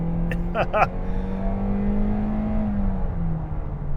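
A 2025 Toyota Corolla LE accelerates hard, its engine note climbing and holding as a steady, droning whine, with a brief voice near the start and road noise underneath.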